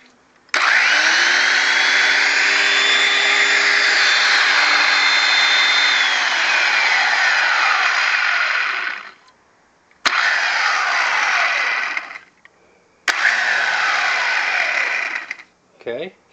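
A Skil Model 100 7.5 amp Series 4 electric planer whines loudly up to speed and runs in a steady high-pitched roar, then stops and is switched on twice more in shorter bursts, winding down after each.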